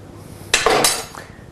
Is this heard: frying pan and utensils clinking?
yes